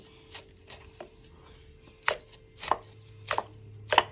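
A knife chopping chili peppers for a Thai chili fish sauce, about eight crisp, close cuts in an uneven rhythm, sharper and louder toward the end, with a faint background hum.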